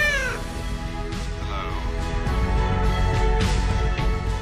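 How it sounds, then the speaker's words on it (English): A cat meows over a sustained tonal background in a talking-collar advertisement; several rising and falling meow-like calls stand out near the start and again later, fairly loud and close. "a digital sensor that detects a cat's meow"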